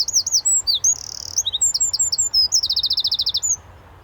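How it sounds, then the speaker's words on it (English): A wren, one of Britain's tiniest birds, sings loud, high, rapid trills and chirps, ending in a fast repeated trill, close by with no talk and faint outdoor background. "That's the wren, isn't he beautiful?"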